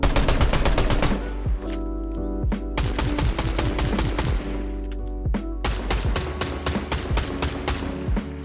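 A blue Enforcer AR fires in a video game: loud, close bursts of rapid automatic shots in a steady rhythm, broken by short pauses, with no talking over them.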